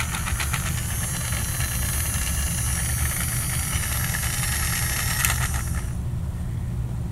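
Motor of a rocket-powered toy Diesel 10 train runs with a steady, loud mechanical whir and rumble, then cuts off abruptly near the end.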